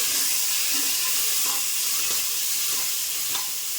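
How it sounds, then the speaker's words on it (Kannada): Curry leaves, onion and washed hyacinth beans fry in hot oil with a steady close sizzle and occasional faint stirring scrapes, no voices. "ಚೆನ್ನಾಗಿ ಎಣ್ಣೆಯಲ್ಲಿ ಫ್ರೈ ಆಗಲಿ"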